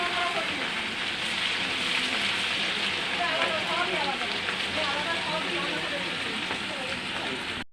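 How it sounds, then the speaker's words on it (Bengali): Chicken pieces deep-frying in hot oil for chili chicken, a steady dense crackling sizzle that stays even and fairly loud throughout, with faint voices underneath. "চিকেনগুলো ভেজে নিচ্ছে আগে।"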